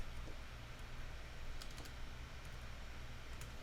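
Faint, rapid keystrokes on a computer keyboard with scattered clicks and a steady low background hum, no voices.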